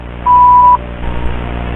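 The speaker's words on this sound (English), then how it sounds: "After the beep, we will return your call." A single steady electronic beep, clean and sustained for about half a second, followed by quiet low background hum.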